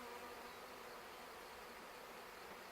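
Honeybees from a package swarm around a hive as they are shaken in, a dense, steady, close buzzing that fills the scene without pause and with no voices.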